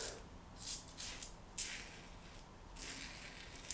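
Brass double-edge safety razor, the G.S.C. Java Latte, scraping through lather on skin in several separate strokes, each a soft hissing rasp with a crisp edge; fairly quiet and close, and no one speaks.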